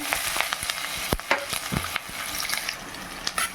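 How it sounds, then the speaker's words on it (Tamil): Onions sauté in hot oil with green chillies for banana flower kurma, a steady crackling sizzle punctuated by scattered clinks and scrapes of stirring. "நறுக்கி வச்ச வெங்காயம் சேர்த்துருங்க"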